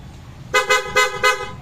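Three quick honks from a stock motorcycle horn, evenly spaced and bright, sounding close with a quiet background between blasts.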